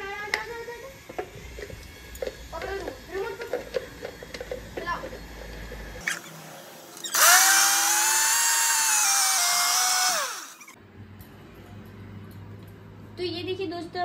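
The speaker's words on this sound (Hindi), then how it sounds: "हाँ, पहले चीनी ग्राइंड कर लेते हैं फिर इसको ग्राइंड करेंगे।" A kitchen mixer grinder whirs loudly and steadily as it grinds sugar for a homemade mango shake, its motor running for a few seconds with a rising pitch, after quieter talk and household sounds.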